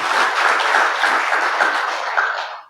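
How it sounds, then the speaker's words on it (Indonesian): Audience at a youth political organization's national meeting applauds a guest, a dense sustained burst of clapping throughout a large hall that fades out at the end. "Tepuk tangan untuk Bung Andi Malarangeng."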